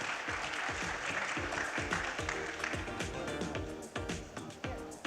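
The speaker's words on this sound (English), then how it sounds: "Let's give her a round of applause" At a tech conference main stage, an audience applauds as an award presenter is welcomed for a CTO of the Year final, a bright sustained burst of clapping over faint music with low thumping beats.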